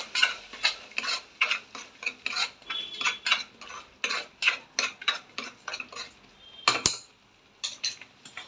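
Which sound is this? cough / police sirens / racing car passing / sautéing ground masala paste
sautéing ground masala paste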